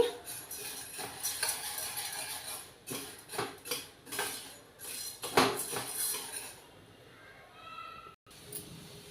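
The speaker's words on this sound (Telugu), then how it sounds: "సిమ్లో పెట్టి నీట్గా వేయించుకోవాలి ఇలా కలుపుకుంటూ నీట్గా వేయించుకోవాలండి" Lentils dry-roast in a metal pan while a utensil stirs them, making repeated scraping and clinking strokes in an uneven rhythm, close and fairly loud.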